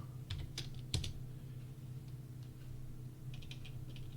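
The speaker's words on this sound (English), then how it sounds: "we need to type in the command GRIDDISPLAY" Keys tapped on a computer keyboard to enter a command in AutoCAD, a few sparse, quiet clicks scattered over a steady low background hum.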